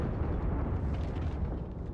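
Tank gun shot explosion in a tank video game, a dense low rumbling boom that fills the whole moment, loud and broad with no speech over it.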